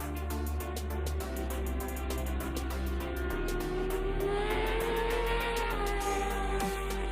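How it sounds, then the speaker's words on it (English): Kawasaki ZX10R superbikes revving hard on a race track, a steady high-pitched engine whine with rising and falling pitch over a continuous low rumble, sustained throughout with no speech. "Just listen to these riders absolutely rev their ZX10R bikes to the absolute limit and absolute extreme"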